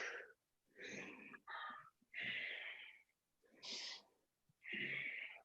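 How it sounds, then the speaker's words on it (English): Slow, deep breaths during a yoga session, drawn in and let out in long airy waves, about five breaths spaced a second or so apart, close and clear with no talking. "last 5 breaths"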